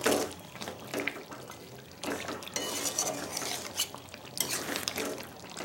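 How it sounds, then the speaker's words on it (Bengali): Chicken with kasuri methi stirred in a pan, a spoon scraping and clinking against metal in uneven strokes over a faint background hiss, no voices. "দিয়ে ভালো করে একটু নাড়াচাড়া করে দিচ্ছি।"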